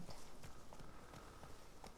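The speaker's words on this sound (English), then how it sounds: "That's a horse." Faint, rhythmic clip-clop of horse hooves walking in the video game The Witcher 3: Hearts of Stone, steady and distant beneath a muffled background.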